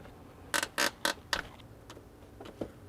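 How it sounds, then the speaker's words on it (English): A hose on a first-generation Nissan Titan is tugged off its fitting once the clamps are removed, giving four quick, close rubbery creaks and squeaks in a row, then a few fainter squeaks. "So just grab these clamps off just like last time and pull this hose out."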